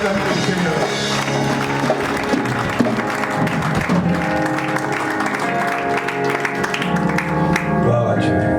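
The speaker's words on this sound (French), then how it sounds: "Est-ce que pendant qu'il avance, on peut acclamer le Seigneur?" Church congregation clapping and cheering to acclaim the Lord, a loud, steady wash of applause with voices shouting and music-like tones mixed in, continuous throughout.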